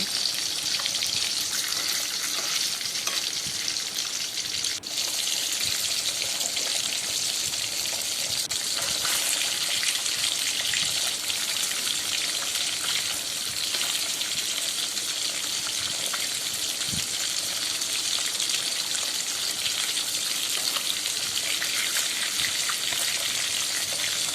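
Rohu fish pieces fry in hot oil for a Bengali-style fish curry, a dense, steady crackling sizzle that holds for the whole stretch with a few faint clinks as the pieces are turned, no talking.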